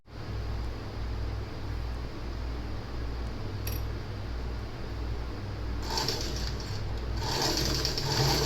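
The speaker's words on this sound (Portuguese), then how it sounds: "E vamos passar a costura." A sewing machine stitches a seam on a child's festa junina dress, a steady continuous mechanical whir running the whole time, slightly louder and brighter toward the end, with no talking.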